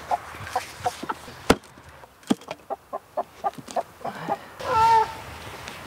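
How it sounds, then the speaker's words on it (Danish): Araucana chicken clucking in a short series of near, separate clucks with uneven rhythm, one sharp bang partway through and a drawn-out squawk at the end. "Det her, det er sådan en araucana."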